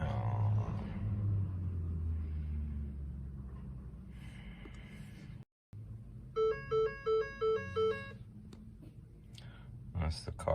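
Chimes from a 2012 Ford Fusion while its system data is read: a rapid run of five electronic two-tone beeps inside the car, over low cabin rumble, with someone talking before them.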